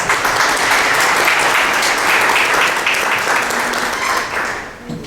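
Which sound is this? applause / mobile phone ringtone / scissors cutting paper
applause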